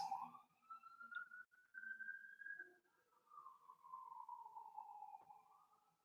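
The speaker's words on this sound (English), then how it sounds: "You hear those sirens?" A siren wails faintly in the distance, its pitch slowly rising and falling in long sweeps, with no other prominent sound.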